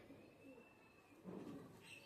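Faint, low cooing of a Pakistani Teddy pigeon rises briefly from a quiet background, with no talking.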